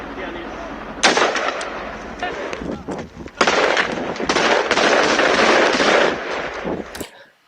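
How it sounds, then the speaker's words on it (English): Dense bursts of gunfire and heavy shooting in a war zone among destroyed buildings, sustained volleys of cracks and rattles that run nearly continuously for several seconds before cutting off abruptly. "These guys just shoot at nothing."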